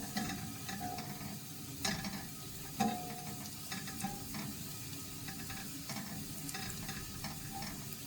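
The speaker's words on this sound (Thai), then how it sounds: "เราก็เตรียมจียวกระเทียมให้เหลืองเหลืองใส" Garlic frying in oil until golden for a Thai stir-fried fish and vegetable dish: a steady, close sizzle with occasional clinks and scrapes of a utensil stirring the pan.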